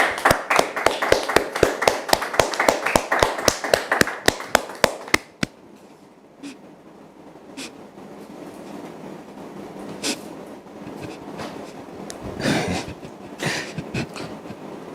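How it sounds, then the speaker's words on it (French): Audience applause welcoming a guest onto a studio set, brisk rhythmic clapping that fades after a few seconds into quieter room noise and scattered sounds. "merci de le recevoir sous vos applaudissements"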